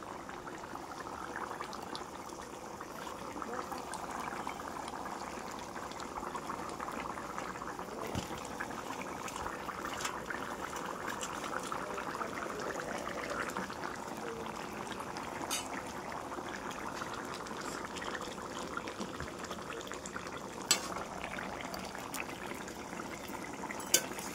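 Potatoes boil in a pot of fish curry, giving a continuous low bubbling and gentle churning that holds steady and close, with a few faint clicks late on.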